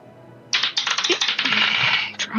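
An online tabletop game plays a dice roll effect: a burst of rapid clattering, tumbling clicks lasting about two seconds, close and fairly loud with no voices over it.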